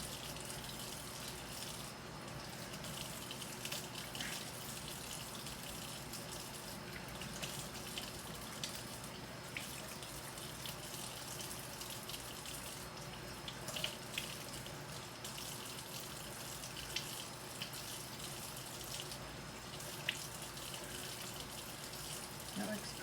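Tap water runs steadily while a ball of freshly made butter is rinsed and worked by hand at a sink, a continuous broad wash of flow with small splashes, near and fairly loud throughout.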